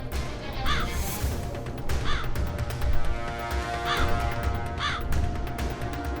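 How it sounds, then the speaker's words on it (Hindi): Crow cawing in a devotional drama scene: four separate harsh, rising caws spaced about a second apart, loud and close over a busy background of music and noise. "काक, मेरे वाहन, शीघ्र उपस्थित हो।"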